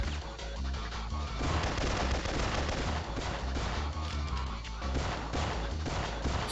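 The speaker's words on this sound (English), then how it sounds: "So I'm just gonna shoot the window and climb up." Dense gunfire from the Syphon Filter video game, a loud, continuous barrage of shots as a window is shot out, with a crash of impact mixed into the steady clatter.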